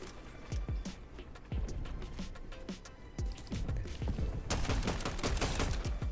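Assault rifle gunfire in a competitive shooter game crackles in quick repeated bursts of sharp shots, steady and close, building to dense fire near the end with no talk.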